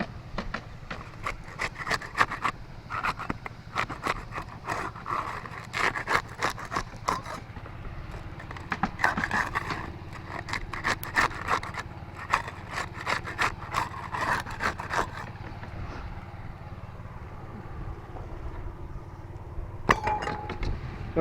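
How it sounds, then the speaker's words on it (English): A putty knife scrapes under roof shingles to break their seal, producing repeated rough scraping and rubbing strokes in uneven bursts, close and fairly loud, with a quieter pause near the end before a final sharp scrape. "We'll get started with the putty knife. We'll use that to unseal all the lower shingles."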